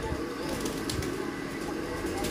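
Golden Kasuri pigeons with red eyes coo softly in a loft, low murmuring calls half-buried in steady broadband noise with occasional wing flutters.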